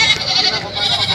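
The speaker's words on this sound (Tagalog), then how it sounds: "Ang daming kambing ngayon." Goats bleat continuously at a busy livestock market in Padre Garcia, Batangas, with overlapping calls from many animals close by and loud throughout.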